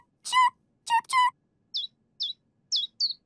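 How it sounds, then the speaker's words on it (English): A cartoon baby bird chirps, starting with three longer, bright tonal calls. These are followed by four short, high, evenly spaced tweets, all close and clear against silence. "Chirp, chirp, chirp, chirp."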